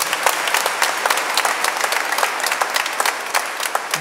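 Audience at a Lenten church retreat claps in a burst of dense, crisp applause that holds steady for about four seconds with no voices over it.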